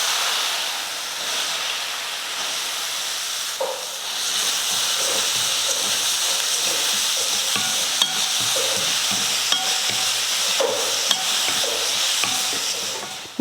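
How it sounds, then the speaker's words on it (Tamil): Grated Indian gooseberry (amla) sautéing in hot oil with popped mustard seeds and a pinch of asafoetida gives a steady, close sizzle, broken by light scrapes of stirring throughout. "நெல்லிக்காய் போட்டு இந்த அளவுக்கு வதக்குனதுக்கப்புறமா மிளகாத்தூள் சேர்த்துக்கோங்க"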